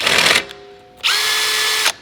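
A power drill bores a 3/8-inch hole at a punch mark in metal parts for a custom chopper, whirring in two close bursts, a short one and then a longer sustained run, with a brief pause between.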